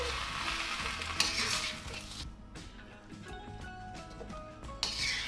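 Beef chow mein being tossed and stirred in a pan after the heat is switched off, with soft sizzling, scraping strokes and light clinks of utensil on metal, close and fairly quiet, with no talking.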